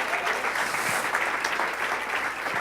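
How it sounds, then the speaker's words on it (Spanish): Church congregation clapping loudly in a dense, steady burst of applause throughout, with no voices standing out. "¿Cuántos aplauden fuerte al Señor?"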